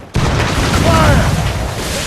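A ship's cannon broadside in the video game Assassin's Creed Rogue, one loud sudden booming blast that rolls on as a sustained rumble, with a shouted voice over it.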